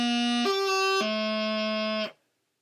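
A sustained reedy note on B drops to low A through a quick higher grace note in between. The tone is bright and buzzing, held close and loud before cutting off cleanly, with no voices.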